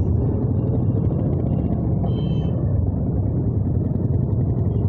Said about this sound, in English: This is how you had to ride the bike in the city.